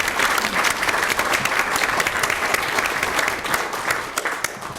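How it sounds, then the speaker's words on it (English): Audience at a public council meeting applauding as students come forward, a loud dense burst of many hands clapping steadily throughout, with faint voices underneath. "Let's give them a round of applause as they come forward."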